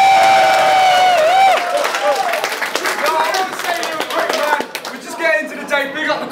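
Lively crowd at a Don't Flop rap battle tournament clapping and cheering, with scattered applause and whoops rising after the first second and continuing throughout, mixed with people talking and calling out.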